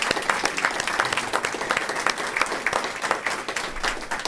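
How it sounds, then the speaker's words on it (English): Audience applause fills the room at the 2023 Department of Defense Disability Awards ceremony, a sustained round of many clapping hands with crisp individual claps poking through. "So let's give another round of applause for Mr. Warren."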